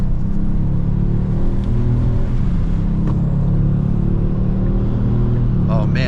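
A 2018 Kia Stinger GT engine in a video game drones and rumbles steadily at high revs, a continuous throaty exhaust tone that stays loud throughout.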